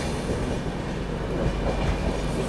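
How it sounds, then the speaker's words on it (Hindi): Gatiman Express train running on the rails near Agra Cantt, a loud, continuous broadband rumble and roar from close by, with faint rhythmic rail clatter underneath. "फिलहाल अपनी ट्रेन जो है पहुंच रही है आगरा कैंट।"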